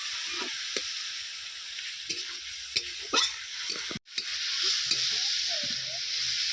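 Water poured into a frying curry masala for a chicken and potato curry sets off a loud, steady sizzle and hiss, with spoon scrapes and stirring clicks before the sizzle surges up close.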